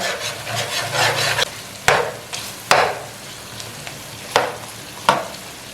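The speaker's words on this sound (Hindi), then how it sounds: "आंच मीडियम रखी हुई है मैंने, अच्छे से चला लेते हैं" Chicken biryani fries in a pan on medium heat as it is stirred, a steady sizzle with several sharp scrapes and knocks of a spoon against the pan, close and alone with no voices.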